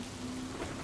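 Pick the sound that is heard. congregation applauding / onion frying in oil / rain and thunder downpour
rain and thunder downpour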